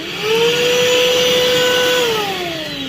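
A Vax Blade cordless vacuum cleaner runs steadily up close, its motor whine holding a level pitch for about two seconds before it drops away as the machine winds down.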